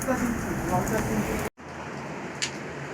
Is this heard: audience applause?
no